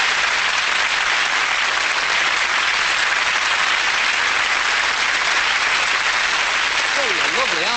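A theatre audience gives sustained, loud applause after a magic trick, a dense even wash of clapping filling the room, with a voice starting to speak near the end.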